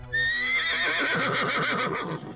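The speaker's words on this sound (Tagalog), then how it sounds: "nakarinig sila ng halinghing ng isang kabayo" A horse neighs as a sound effect in a narrated Filipino folk horror story, a loud, drawn-out whinny with a wavering, descending pitch filling the whole moment over a low background drone.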